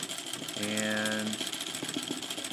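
A treadle sewing machine stitching back and forth through embroidery thread: a short, steady mechanical rattling whir lasting under a second, close by, with a voice talking around it.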